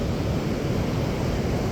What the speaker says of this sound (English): Some big old huge waves out there right now.